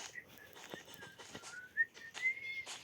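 Someone whistles a thin, wavering tune in short phrases, fairly quiet, with soft background clicks and shuffles.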